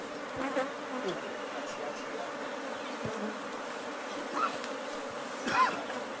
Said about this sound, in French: ces villageois ont repéré un essaim d'abeilles à l'intérieur de ce baobab.